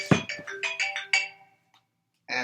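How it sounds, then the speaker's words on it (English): A mobile phone ringtone plays a short melodic pattern of bright repeated tones, stops, then starts again at the end, loud and close with no talking over it. "I'm going to silence my phone"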